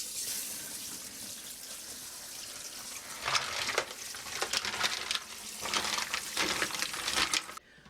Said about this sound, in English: And you want to rinse them with cold water